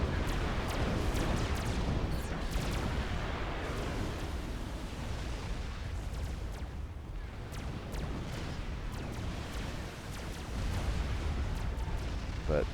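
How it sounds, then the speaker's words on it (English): Trebuchet artillery pounds a base in the Supreme Commander Forged Alliance Forever strategy game, a dense, continuous barrage of rumbling booms and crashing impacts that barely lets up. "Lovely inclusion of the trebuchets over here in the eastern plateau, causing problems this way."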